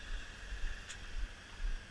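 A 1994 Ford F250 pickup engine idles steadily on a chilly day, a low, even rumble with a faint throbbing pulse and no talking.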